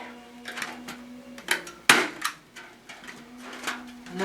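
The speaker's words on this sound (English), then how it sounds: "we only need a few staples to sort of establish where you want the" Several sharp staple-gun snaps ring out as wire screen is fastened onto a wooden sieve frame, with one especially loud crack among lighter clicks close by.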